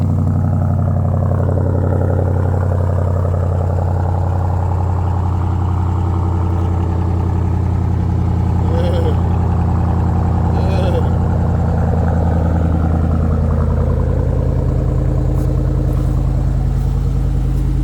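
A large vehicle's engine runs at a steady, loud low idle throughout, its deep drone constant while people talk over it.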